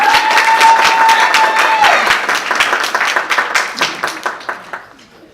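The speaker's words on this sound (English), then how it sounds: "Let's give her a round of applause." An audience at a ceremony applauds the woman giving the invocation, a loud sustained round of clapping that gradually thins into scattered claps and dies away; a brief tone sounds at the start.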